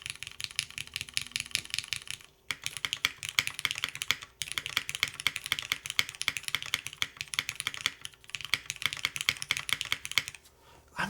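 Keys clatter on a mechanical keyboard with an FR4 plate, fast bursts of close, crisp typing with short pauses between runs.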